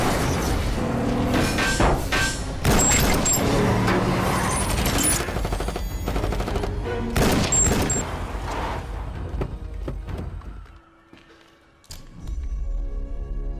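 Gunfire in a film gunfight in an abandoned building: dense, loud bursts of shots and impacts with booming thuds, then a brief lull before heavy noise returns.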